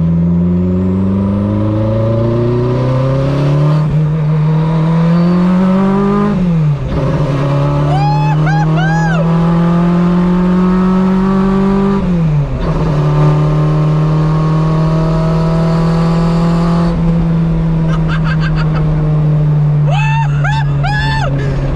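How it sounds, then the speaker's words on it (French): Renault Maxi 5 Turbo rally car accelerating hard from inside the cabin, its loud engine climbing through several rising gear pulls with brief dips at each shift, turbo whistles and chirps on top, and occasional excited voices underneath. "on a fait précharger le turbo"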